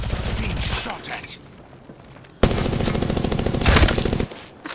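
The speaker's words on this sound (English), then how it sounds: "Being shot at." Apex Legends gunfight with rapid automatic weapon fire in loud bursts, a quieter lull, then a sudden heavy stretch of close shots, with game voice lines mixed in.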